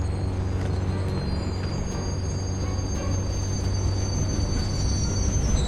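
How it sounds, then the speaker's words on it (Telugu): A train rolls past in the mobile game Indian Bike Driving 3D, a steady, continuous rumble of rail cars with faint high wheel squeal running throughout at even loudness, no voices. "ఓకే ట్రైన్ వచ్చింది గైస్"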